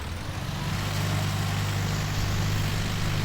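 The mower engine in a farming survival roleplay video game runs with a steady, low, droning hum that holds at an even level throughout.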